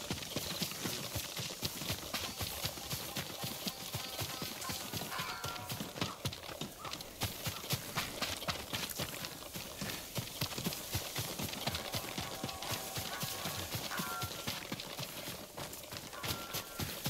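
Horse hooves clip-clop steadily and continuously in Ghost of Tsushima, a fast, even rhythm of close hoofbeats with an occasional neigh, and no talk over it.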